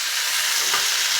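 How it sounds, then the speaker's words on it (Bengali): Potatoes frying in oil give off a steady, even hiss and sizzle at moderate volume throughout, with no voices. "এই যে আমি আলুটা ভাজা করছি।"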